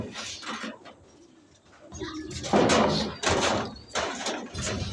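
Birds coo and call close by with a broadband rustling burst partway through, as if wings or a door; no talk.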